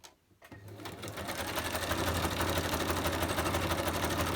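Sewing machine zigzag stitching across the tops of paper book-page pockets, a brief quiet start and then a steady, fast mechanical whirring chatter that builds and holds close and loud.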